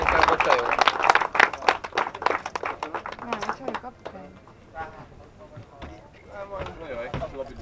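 Crowd claps for the winners at a rally award ceremony. The sharp, uneven claps are loudest at the start and then thin out and fade while someone talks through them.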